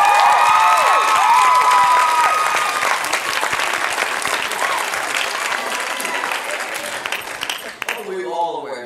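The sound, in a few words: audience applause at fan event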